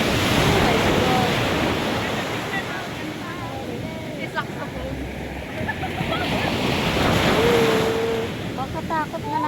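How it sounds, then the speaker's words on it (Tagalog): Big ocean waves crash and roar in a steady wash, with heavy wind buffeting the microphone and people talking over the surf. "Laki ng alon."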